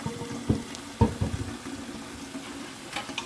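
Cooked beets poured from a pot into a colander, giving a few wet thuds and splashes over a soft running-water wash, close and moderately quiet.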